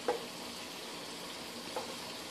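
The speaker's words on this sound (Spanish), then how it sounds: "aquí lo vamos a dejar hervir un rato más" Mushroom cream sauce for enchiladas bubbles in a pan with an even, soft hiss and two faint clicks, steady and close.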